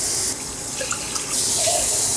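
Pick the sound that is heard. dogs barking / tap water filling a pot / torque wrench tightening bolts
tap water filling a pot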